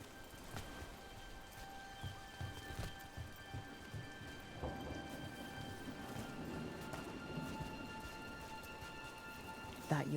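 Steady rain falls in Dragon Age: The Veilguard, a soft, continuous patter of drops with a low rumble of distant thunder, faint overall, while a voice speaks briefly over it.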